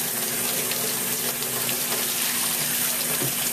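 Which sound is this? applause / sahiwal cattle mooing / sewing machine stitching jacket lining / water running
water running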